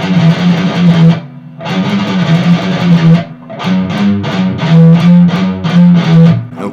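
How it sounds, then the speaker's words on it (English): Heavily distorted electric guitar plays a metal riff in standard tuning as single notes, fast picked and chugging in short repeated phrases with brief pauses, loud and close with no voice. "But you could play that with single notes and it sound like this."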